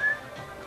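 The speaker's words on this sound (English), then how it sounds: "Uh-oh, whistling." A brief, clear whistled note, short and alone, with no talking over it.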